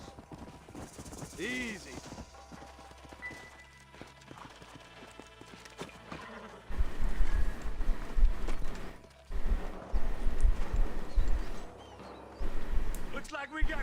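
Horses walking in the Red Dead Redemption video game: clip-clop hoofbeats that grow louder and busier in the second half, with a brief spoken word early on and some ambient game sounds.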